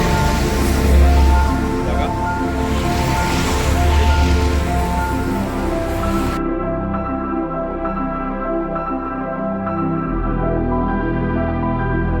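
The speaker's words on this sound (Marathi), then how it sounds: "कंटिन्यू पाऊस लागत असल्यामुळे थांबलो" Steady rain falling during a stop on a solo motorcycle ride along a Mumbai to Konkan highway, a continuous wash of rainfall, with the character of the sound shifting partway through.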